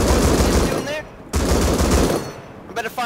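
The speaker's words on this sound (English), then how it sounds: "Better fire a rocket straight on him." Weapon fire during a raid in the Rust video game, with heavy bursts of loud, close blasts in two long stretches separated by a brief gap.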